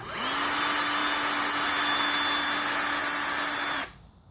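A power drill spinning a wire brush on an engine valve from a 1ZZ engine whirs at a steady high pitch, loud and close, running without a break for nearly four seconds before cutting off abruptly.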